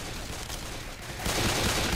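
Gunfire in Left 4 Dead 2 against zombies: continuous rapid shooting that swells louder and denser halfway through, a close, chaotic barrage with no talking.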